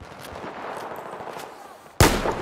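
A single sharp, loud gunshot from a rifle in Battlefield 4 cracks near the end, following a stretch of quieter ambient battle noise and distant thumps.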